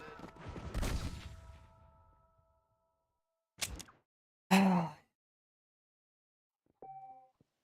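Gunfire in Red Dead Redemption: a booming shot with a long decaying tail, then two sharp separate cracks, followed by a short electronic tone amid silence.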